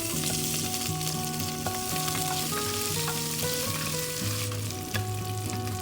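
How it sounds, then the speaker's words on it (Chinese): Ginger slices and shallots stir-fry in oil in a clay pot over medium heat, giving a steady, close, loud sizzle with faint scraping of stirring throughout, alone with no voices. "改中火炒出香味， 加入干葱头"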